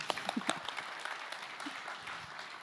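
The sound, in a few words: audience applause at a conference talk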